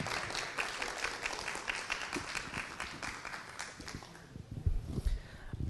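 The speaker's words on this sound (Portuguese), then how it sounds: "Queria solicitar uma salva de palmas para o nosso colega José Carlos do Vale." Applause for a colleague at an academy symposium fills the hall as a dense, fairly distant patter of many hands, thinning toward the end with a few scattered bumps.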